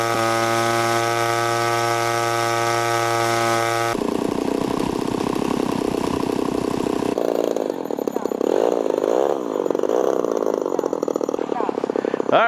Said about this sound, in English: see if this engine will stay running as expected